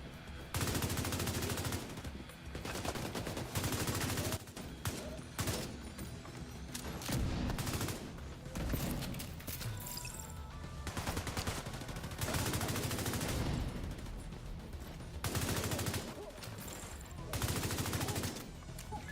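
Bursts of rapid gunfire from a 30-round automatic weapon in a video game, loud and repeated in clusters of automatic shots, with brief pauses between volleys.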